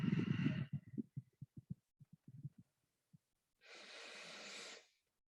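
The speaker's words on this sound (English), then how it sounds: "Ujjayi breathing, making an H sound" Ujjayi yoga breathing with an audible H sound: a close throaty breath, then a string of short soft pulses, then a long airy exhale.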